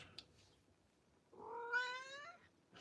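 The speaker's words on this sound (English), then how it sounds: "We got cats." A cat lets out one drawn-out, wavering meow, close but soft, in an otherwise quiet room.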